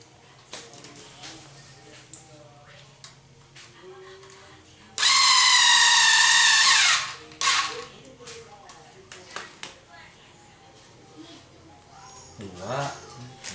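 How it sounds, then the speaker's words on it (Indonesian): An electric drill whirs in one loud, steady burst of about two seconds while a Core i3 PC is assembled. People talk before and after it against a quiet room. "Bor."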